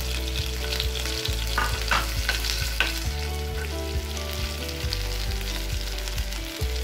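Steady, loud sizzling of asafoetida, curry leaves and chillies in hot oil, with a continuous crackling hiss and occasional stirring clinks, no voices.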